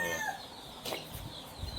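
Free-range country chickens on a farm, faint scattered clucks and calls at a distance over low background noise.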